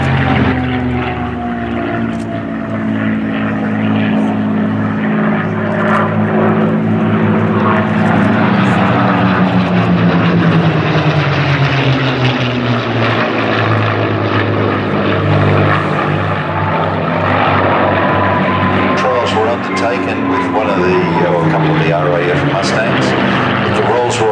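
A WWII fighter with an Allison V-1710 engine flies at a Duxford air show, its loud propeller drone rising and falling in pitch as it passes, under a commentator's voice.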